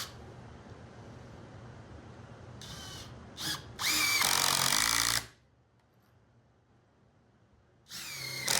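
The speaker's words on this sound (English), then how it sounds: "I'm really just screwing everything together" Power drill driving screws into wood for an outdoor bar: several short bursts of whirring, the longest about a second, each ending abruptly, close and with no talk.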